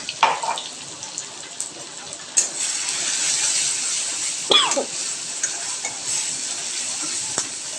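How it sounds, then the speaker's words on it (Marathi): Garlic and green chilli paste with cumin being stir-fried in a pan for patodi rassa, with a soft frying hiss broken by metal spoon scrapes and occasional clinks against the pan. "आधी तयार करून ठेवलेली लसूण व मिरचीची पेस्ट घालती आहे हे सर्व चांगलं परतून घ्यायचं आहे"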